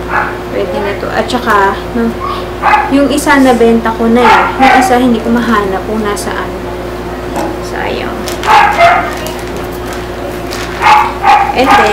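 A dog barks and yips a few times in the background while someone talks close up over a steady hum.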